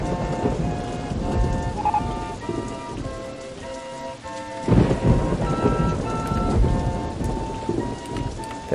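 Heavy rain pours steadily with a rumble of thunder midway in the game OpenRCT2, while soft melodic game music plays over the storm.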